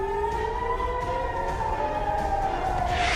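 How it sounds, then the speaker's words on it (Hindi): Air raid siren wailing over central Israel during an Iranian missile attack, a steady sustained tone that slowly falls in pitch, loud and continuous throughout with no talking. "ईरान ने मिसाइलें दागकर इजराइल के सेंट्रल इलाकों को निशाना बनाया, जहां पेटाह टिकवा सहित कई इलाकों में सायरन गूंज उठे।"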